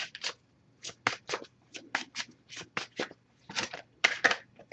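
Oracle cards from the Messages of Love deck are shuffled in a quiet room, a close series of short papery riffles and slaps coming in uneven bursts.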